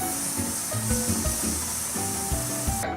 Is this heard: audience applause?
no